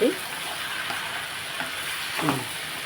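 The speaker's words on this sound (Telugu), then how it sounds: "గుడ్లు ఫ్రై చేస్తున్నాను" Eggs frying in a pan, a soft continuous sizzle with a few stirring scrapes and clinks near the start and end, quiet overall and without speech.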